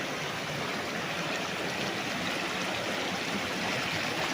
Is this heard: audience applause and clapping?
no